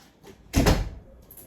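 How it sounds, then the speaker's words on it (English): A door is pushed shut indoors at home with one solid thud, fairly close and moderately loud, followed by quiet room sound. "let me close this door."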